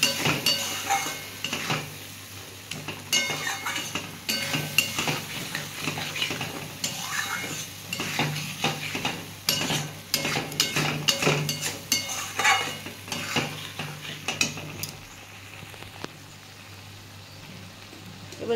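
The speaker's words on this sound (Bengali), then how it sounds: "একদম ভালো করে একটু কষিয়ে নেবো এটা" Curry being stir-fried in a pan, with a soft continuous sizzle under repeated scraping and clinking of a utensil against metal, close and uneven in rhythm.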